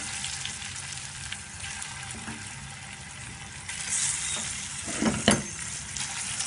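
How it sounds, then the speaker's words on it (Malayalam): Prawns fry in a tablespoon of oil in a pan with a continuous close sizzle, broken by a brief clatter of stirring near the end. "ആദ്യം നമുക്ക് ചെമ്മീൻ ഒന്ന് ഫ്രൈ ചെയ്തെടുക്കാം."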